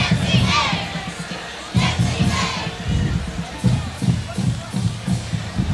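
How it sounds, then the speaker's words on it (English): The crowd at a 2002 high school football game between Mount Carmel Area and Shamokin cheers and shouts in loud swelling waves, with children's yells and a brief lull partway through. "What a crowd, though, Wayne!"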